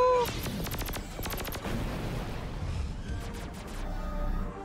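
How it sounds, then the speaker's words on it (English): Cannons fire in an animated battle scene as rapid bursts of repeated booming shots, loud and dense over a rumbling background, with no clear talking. "Keep those cannons firing, Mason!"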